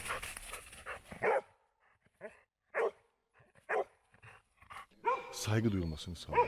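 A search dog gives several short, separate barks spaced through a quiet stretch. People talk near the start and again at the end, over the barking.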